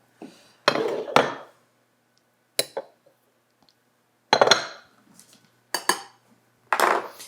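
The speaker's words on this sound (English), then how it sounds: "I'm just going to use a fork and smash it all together, make some nice crumbs out of it." A fork scrapes and clinks against a bowl while mashing butter with a cinnamon crumb mixture for rhubarb crumb cake. The strokes come in short, irregular bursts of scraping and clinking with quiet gaps between, close up and without talk.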